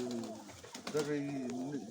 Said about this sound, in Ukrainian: Це голубка